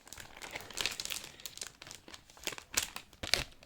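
Cardboard packaging of a One Piece advent calendar box crinkles and tears as it is opened, giving close, busy rustling with a few sharper crackles and no talking.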